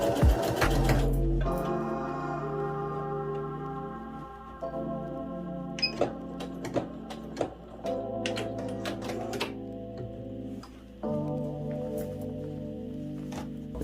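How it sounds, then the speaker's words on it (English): A sewing machine runs a straight stitch to close the opening on a beginner's elastic-waist maxi skirt, giving a steady humming, whirring motor sound with a few short breaks and light clicks, and no voices. "We're going to use a straight stitch to sew that opening closed"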